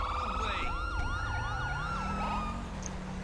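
A wailing police siren from GTA V with the LSPDFR mod sweeps up and down repeatedly over a steady engine rumble, loud and close, with no voices.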